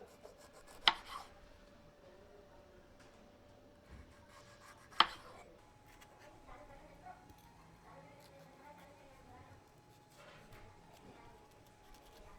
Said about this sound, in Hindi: शिमला मिर्च को चौकोर टुकड़ों में काट लेते हैं।